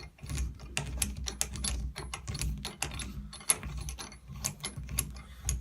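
A puller is tightened down onto an old shower valve, giving rapid ratcheting clicks and metallic clatter in uneven bursts, close and fairly quiet, with no talking.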